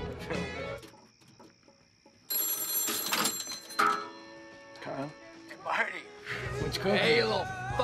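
A telephone bell rings in repeated bursts, close and clear, interleaved with people talking and shouting.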